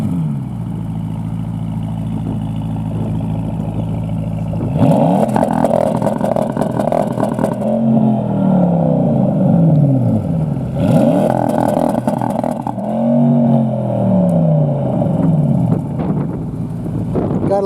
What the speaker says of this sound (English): the whole car shakes like an old American muscle car when you rev it